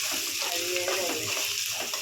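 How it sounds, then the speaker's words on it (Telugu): Prawns fry in a hot pan with a steady, close, hissing sizzle and a few stirring sounds, while a voice speaks faintly underneath. "బాగా వేగాలి."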